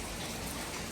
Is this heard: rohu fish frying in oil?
no